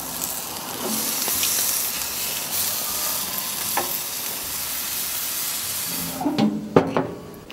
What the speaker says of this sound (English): I think our steak is ready to flip.